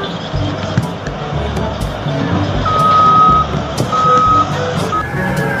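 A toy sand truck sounds steady electronic reversing beeps, two or three clear tones, amid clattering plastic knocks and bumps close by.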